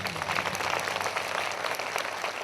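A prayer meeting congregation claps together in dense, sustained applause that stays loud and even from start to finish.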